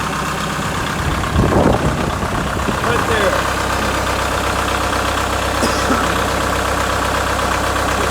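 Kubota M5660 SU tractor diesel engine idling near the exhaust, a steady loud low rumble throughout while someone speaks briefly over it.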